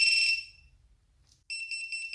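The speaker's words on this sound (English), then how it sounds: "Now I've got the HellGate FPV buzzer, so we can test it at the same position." A HellGate FPV drone finder buzzer emits a loud, piercing high beep that fades, then after a pause sounds again in a rapid series of short pulsing beeps, close and alone.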